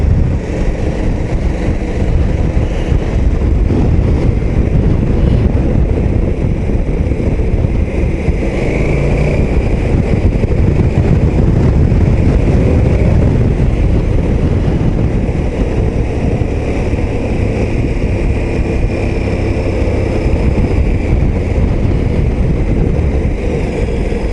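A KTM 1290 Super Adventure S engine drones steadily while riding at around 3000 rpm, a loud continuous low rumble mixed with wind buffeting the microphone, with no talking.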